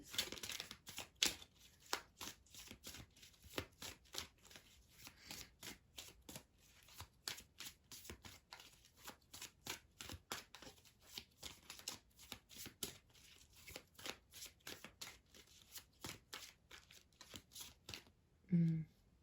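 A deck of angel cards is shuffled over and over, giving quick, crisp riffling flaps and snaps in an even rhythm close by, with a soft voice briefly heard near the end.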